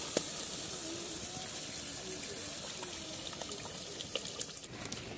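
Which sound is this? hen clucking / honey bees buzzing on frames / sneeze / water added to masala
water added to masala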